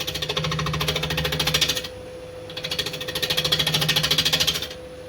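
A woodturning tool chatters and bounces against an uneven oak platter spinning on a lathe, a rapid rattling buzz in two long bursts with a brief quieter gap between them.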